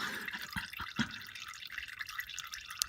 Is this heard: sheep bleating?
no